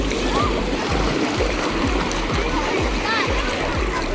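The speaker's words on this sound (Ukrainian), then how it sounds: "Дуже багато відпочивальників. І в морі, і на пляжі." Water splashes steadily on a crowded Black Sea beach in Odesa on a warm Sunday, with swimmers in the sea and many overlapping voices of children and adults throughout.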